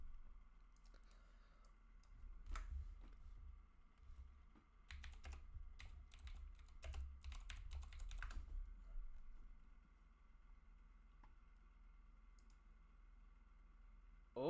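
Keys clatter on a computer keyboard in quick irregular bursts, loudest from about 2.5 to 8.5 seconds, over a low steady hum, then the typing thins out into near quiet.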